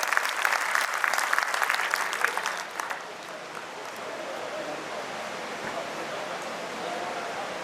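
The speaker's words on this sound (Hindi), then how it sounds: "एक बार तालियों के साथ स्वागत कीजिए हमारे सीएमओ साहब" An audience at a Haryana State Agricultural Marketing Board event bursts into loud, dense applause to welcome an official, which fades after about three seconds into a low murmuring room noise.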